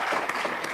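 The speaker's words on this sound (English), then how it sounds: "we owe Marcus a round of applause" Conference attendees at a summit give a brief burst of applause for the host, a short dense patter of clapping heard from within the room.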